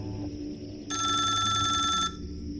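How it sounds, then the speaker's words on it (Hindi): A telephone bell rings in one sustained burst of about a second, loud and bright over a quiet electronic hum. "ट्रक मालिकों को फोन करता है"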